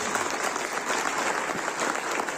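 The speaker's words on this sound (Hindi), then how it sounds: "एक जोरदार ताली हमारे नए साथियों के लिए।" Dense, steady clapping from a hall audience at a Sunday business meeting, loud and continuous throughout the short stretch.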